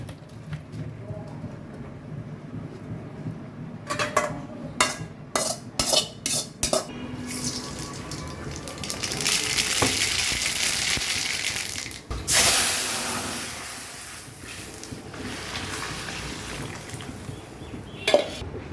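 Metal pots of boiled lentils and banana flower clank and clatter in a burst of sharp knocks as they come off the stove, followed by a steady kitchen rumble and a few more scrapes.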